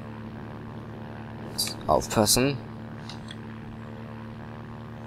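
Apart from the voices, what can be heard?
propeller airplane engine in video game BeamNG Drive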